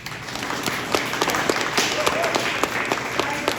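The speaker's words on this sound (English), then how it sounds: "Can we give her another round of applause?" A crowd claps in a dense, steady patter of applause, with a voice briefly audible underneath.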